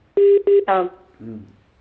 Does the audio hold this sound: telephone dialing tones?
yes